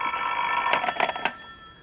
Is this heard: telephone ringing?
yes